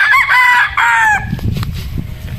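A Boston Roundhead rooster crows nearby in two loud, bright cock-a-doodle-doo phrases. Softer clucking and low scuffling follow.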